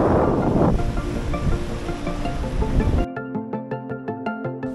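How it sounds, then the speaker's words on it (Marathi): Foaming sea waves surge below Govagad Fort on the Konkan coast, a broad steady wash of surf for about three seconds before instrumental music takes over. "तर समोर फेसाळणारा अथांग समुद्र."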